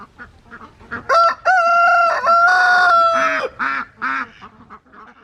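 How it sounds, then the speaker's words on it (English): A rooster crows loudly and close by, one long drawn-out call followed by a few shorter clucking notes, with quiet background between. "hear the rooster crow"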